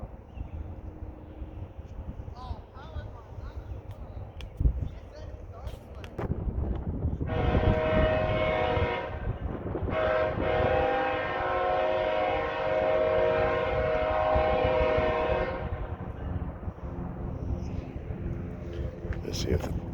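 A CSX stack train passes at the Fostoria, Ohio rail junction, steady rumble and rolling wheel noise with a sustained horn blast sounding in the middle, while people talk nearby.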